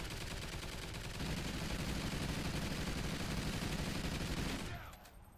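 A sentry gun in Call of Duty Extinction fires a dense, continuous burst of rapid automatic gunfire that holds loud for several seconds and then cuts off abruptly, leaving quiet game ambience.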